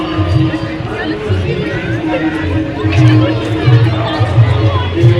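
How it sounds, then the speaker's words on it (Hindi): A large crowd gathered on the riverside steps of Triveni Ghat in Rishikesh for the evening Ganga Aarti fills the air with a steady, dense hubbub of overlapping chatter and murmuring voices, close and continuous throughout. "आरती देखने के लिए लोगों की बहुत सारी भीड़ उमड़ी पड़ी है यहाँ"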